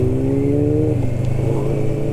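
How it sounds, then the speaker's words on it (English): A Ducati Diavel motorcycle passes close by, its loud, steady engine note holding level and then dipping slightly as it goes past. "That bike does sound lovely though"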